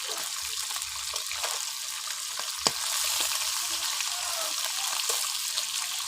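Fresh tilapia fish lightly frying in a pan, a bright steady sizzle and crackle with a few sharp spits and pops, close up with no talking.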